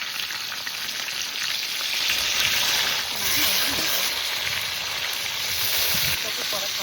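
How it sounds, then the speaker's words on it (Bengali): Pieces of river katla fish frying in mustard oil in a hot kadai, giving a steady, loud, close hiss and crackle throughout, with a few faint scrapes underneath. "মাছের নিচ পিস ভাজা হয়ে গেছে"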